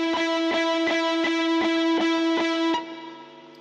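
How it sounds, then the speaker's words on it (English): A repeated tonal pulse, about eight even hits, each smeared into a dense, blurred reverberant wash that sustains throughout and fades at the end. "So we get a sort of blurred sound here because there's more reflections"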